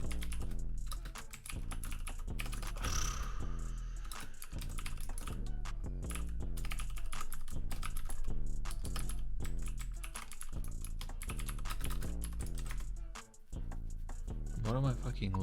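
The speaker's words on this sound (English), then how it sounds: "I'm just gonna type it out." Fast typing on a computer keyboard while writing C++ code, a dense run of close, crisp key clicks with a few brief pauses, continuing for the whole stretch.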